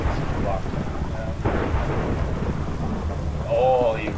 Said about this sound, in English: Ooh, there is rain.